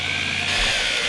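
A power drill with a mixing paddle runs slowly through epoxy stone coating, a steady close mechanical whir that shifts in tone partway through.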